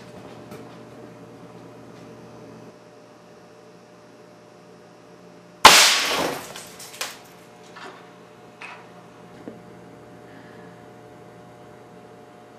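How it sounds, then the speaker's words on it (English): An air cannon fires at a small dead CRT TV: a single sharp, loud blast cuts through a steady low hum, followed by a few fainter clatters and thumps of debris settling. "let's go fire at this little TV"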